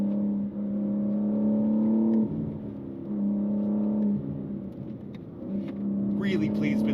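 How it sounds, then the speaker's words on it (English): A 2025 BMW M4 CS engine drones steadily from inside the cabin while driving, a loud low hum that swells and dips as the revs shift. "Oh, this motor is just churning away."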